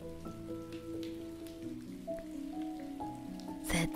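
Steady rain falls in a soft, even wash beneath sustained, stepping musical tones, with a brief louder swell near the end.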